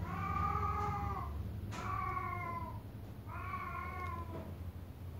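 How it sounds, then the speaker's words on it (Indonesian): A cat gives three drawn-out meows at a steady pace, close and clear over a low background hum. "ada kucing itu ya"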